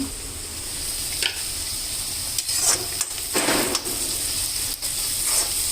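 Tiger prawns with onions and tomato frying in a pan, giving a steady soft sizzle broken by a few brief scraping and stirring clatters, with no one talking.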